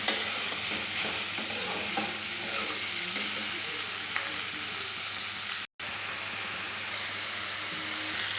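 Onion frying in a pan with chopped tomato, green chili and garlic for a Bengali dried fish bharta, a steady even sizzle with faint stirring scrapes and a brief cut in the sound near the end.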